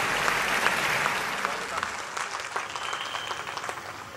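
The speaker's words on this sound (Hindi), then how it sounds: "जोरदार तालियां दे दीजिए" Dense audience applause at a Hindi poetry recital, loud and steady at first and then thinning into scattered claps, with a voice speaking over the later part.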